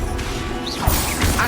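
A Confringo blast spell striking its target in Hogwarts Legacy, a short whooshing burst followed by a sharp crashing impact, with a second hit close behind, loud over an ambient backdrop.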